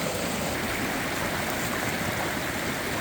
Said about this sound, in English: The water just roars down through here.